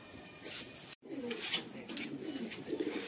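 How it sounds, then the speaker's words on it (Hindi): A black pigeon coos inside a loft, soft throaty calls set against a noisy, hissing background. "ये वाला काला दुबाज अपना, ये भाई अभी आवाज़ निकाल रहा था"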